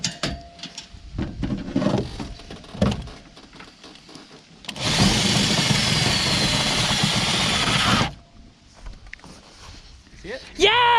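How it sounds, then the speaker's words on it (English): A power drill bores through a car's metal roof in a loud, continuous burst of about three seconds, with people talking before and after. "we're trying a new drill and a new bit"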